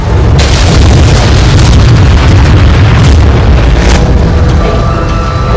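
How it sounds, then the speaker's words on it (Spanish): The Buncefield fuel depot vapour cloud explosion erupts as a massive, continuous low boom and roaring blast that stays loud and dense for the whole stretch, with sharper cracks bursting through. "Casi de inmediato, la nube de vapor provocó una explosión."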